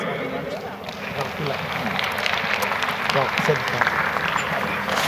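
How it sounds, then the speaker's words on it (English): Audience applause at the 10m air rifle women's final of the 2014 European Championship, a steady wash of clapping throughout, with an announcer speaking over it. "Please applause for him."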